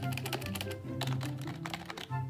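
Rapid typing on a gaming keyboard, dense bursts of close, loud key clacks in an irregular rhythm with no voices.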